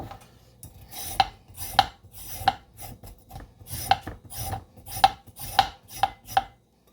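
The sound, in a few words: peeling carrots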